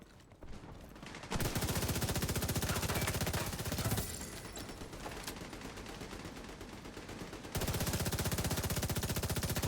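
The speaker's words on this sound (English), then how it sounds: "Who's shooting me from down here?" Sustained automatic gunfire rakes toward the player in a tactical shooter, dense rapid bursts running almost continuously, loud and close, with a brief dip midway before the firing swells back to full intensity.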